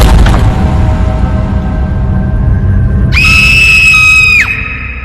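A woman's sudden shrill, high-pitched scream of shock cuts in over loud background noise, holding for about a second before breaking off.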